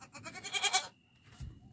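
Goats bleat close by in a farmyard, one loud wavering call followed after a pause by a shorter, fainter bleat.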